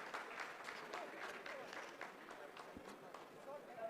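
ISRO scientists applauding in a mission control room after a landing phase of the Chandrayaan 3 Vikram lander completes, steady crowd clapping throughout with a voice talking over it.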